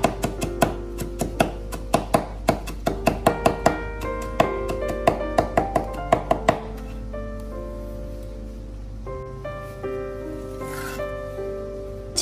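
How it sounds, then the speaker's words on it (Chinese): A knife minces ginger strips on a cutting board, a quick run of crisp close chops that stops partway through, leaving soft background music. "切好之后再改刀把姜丝切成姜末"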